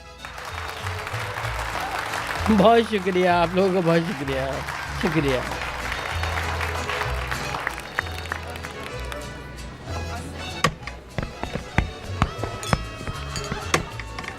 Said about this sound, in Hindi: अब तालियां कौन बजाएगा?